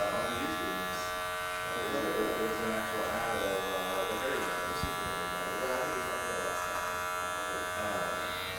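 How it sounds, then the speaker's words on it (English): An electric beard trimmer buzzes steadily while cutting down through a full beard during a big trim, a close, continuous hum with a voice talking over it. "now I'm just going to hedge trim the beard and come down"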